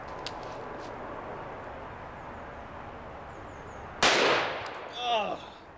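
A revolver is fired at a bulletproof Kevlar mask outdoors: one sharp, loud crack breaks a faint ambient background, followed by a brief rattle and a short chirping tail, with no talk.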